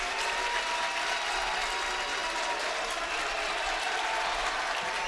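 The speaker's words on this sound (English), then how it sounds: "And you can hear the Rockets fans now on their feet." Rockets fans at a varsity high school basketball game cheer and applaud in a dense, continuous roar of clapping and crowd noise that fills the gym without a break.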